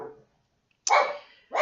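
A dog barks indoors, loud and close: a short bark, then a pause, then one longer bark, and the start of another at the very end.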